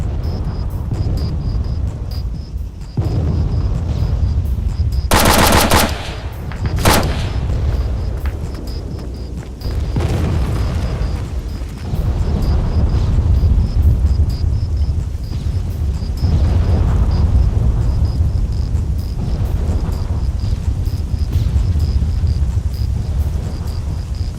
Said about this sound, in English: If you can hear those explosions all around, those are coming from the Osprey flying around